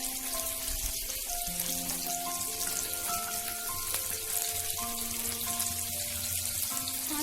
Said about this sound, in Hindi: हम इसे अच्छे से फ्राई होने तक, डीप फ्राई होने तक